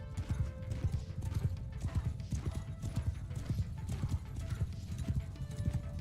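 Horse hooves clip-clop continuously in Mount & Blade II: Bannerlord, a dense, rapid drumming of many mounted riders, loud and steady throughout, with an occasional whinny in the mix.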